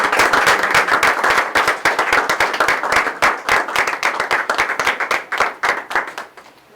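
A church congregation bursts into loud, dense applause, many hands clapping in quick overlapping bursts that carry on steadily before thinning out and fading at the very end.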